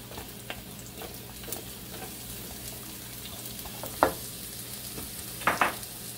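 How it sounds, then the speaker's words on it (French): Onions and chopped garlic sizzle softly in a pan, a faint, steady frying hiss with a few sharp crackles and stirring scrapes. "Je mets maintenant mes oignons et l'ail découpé."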